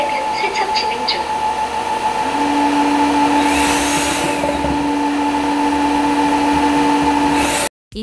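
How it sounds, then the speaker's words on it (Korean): A Narwal S10 Pro robot vacuum running its self-cleaning mop wash cycle, giving a steady whirring motor drone with a sustained tonal hum, continuous and fairly loud at close range before cutting off abruptly near the end. "셀프 클린 버튼을 2초간 길게 누르면 물 걸레 세척이 이루어집니다"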